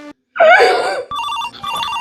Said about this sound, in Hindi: केकर फोन बाजा था।